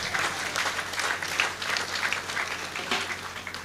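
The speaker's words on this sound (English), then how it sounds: "Please give him a round of applause." Audience applause at a university convocation and Founder's Day ceremony: a steady, dense wash of many hands clapping, moderately distant and even in level, with no voices over it.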